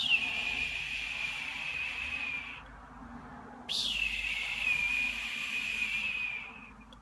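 A human voice imitates a distant hawk call: two long, thin, high screeches, the first fading out and the second starting with a sharp rise, faint and alone.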